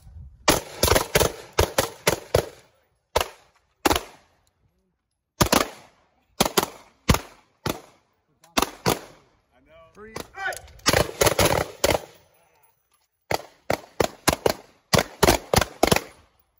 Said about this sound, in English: engage your threat with 2 rounds from your pistol